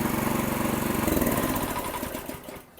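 A new farm power weeder's small engine runs at a steady, close, loud putter with a dense rhythmic chug, easing off slightly in the last moment.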